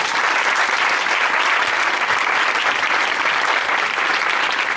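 A church congregation applauds at a French-language Sunday service, with steady, dense clapping from many hands filling the room for several seconds at close range.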